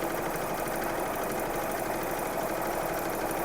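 A Juki HZL 009 sewing machine runs steadily while doing simple stitching on fabric, giving a continuous, even, fairly fast mechanical whir with no pauses and no talking.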